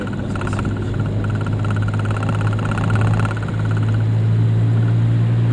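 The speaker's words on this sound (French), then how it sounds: "Le son de l'échappement est plutôt sympa" A Simca Ariane 4 runs with a steady mid-pitched engine hum and exhaust note, holding fairly constant and close with slight shifts in load, no voices over it.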